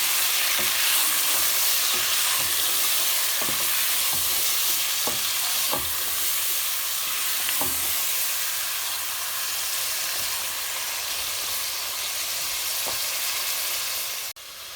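Garlic-ginger paste sizzles steadily in a hot pan while a spoon scrapes and clicks against the metal now and then, stirring close by.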